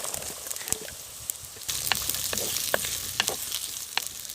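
Onions frying in oil in a clay pot while preparing chicken Manchurian, a steady close sizzle with scattered crackles and stirring clicks that grows denser partway through.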